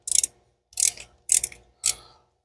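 Four quick bursts of a ratchet wrench backing out a 5/16-inch or 8 mm bolt during diesel injector removal, each short ratcheting run separated by brief pauses, close and fairly loud.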